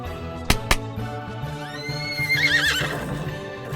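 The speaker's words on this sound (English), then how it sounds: "They slapped the horse, and I was off." A horse neighs in a long, rising whinny that peaks and trails off, preceded by two sharp slap-like hits, all over a low continuous background.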